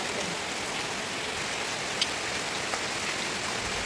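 Steady morning monsoon rain in the rainy season, a dense continuous hiss of drops on surfaces with no voices, broken only by a couple of faint isolated ticks.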